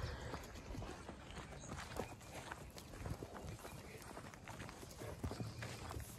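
Steady clopping of hooves on the ground, horses moving at a walk, with a voice murmuring now and then over the busy outdoor noise.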